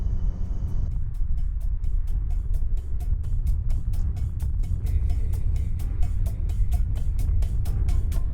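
A car drives through the streets of Salou on the Costa Daurada, its steady engine and road rumble continuous and close, with regular ticking clicks running throughout, like an indicator.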